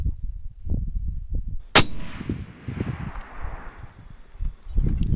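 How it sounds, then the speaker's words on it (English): A single long-range rifle shot cracks out sharply and loud, then rolls away in a long fading echo over faint rustling background noise. "that was my first shot"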